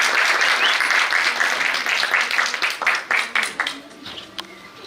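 A seminar audience at an education event applauds loudly, the dense clapping thinning into scattered separate claps toward the end.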